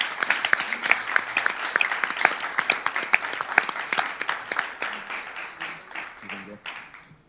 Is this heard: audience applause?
yes